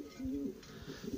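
Soft, low pigeon coos repeat in a gentle throaty rhythm, fairly close, with faint background hiss.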